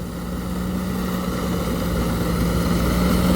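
A farm tractor engine drones steadily in a rice field in Thailand during harvest, a constant low mechanical hum with a strong tonal band that holds at an even, fairly close level throughout, with no talk.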